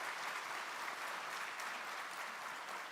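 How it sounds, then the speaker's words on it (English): A hall audience at a tech innovation conclave applauds steadily for the full stretch, a dense, even wash of many hands clapping at moderate distance with no talking over it. "let's have a round of applause for Paresh"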